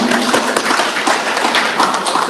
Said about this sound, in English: please give applause to all speakers for today's seminar